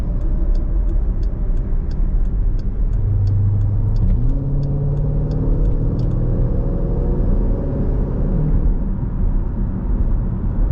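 A Jeep SRT in sport mode accelerates hard with a loud, steady engine roar and rising rumble heard from inside the cabin, with a rapid ticking in the first half and no talk.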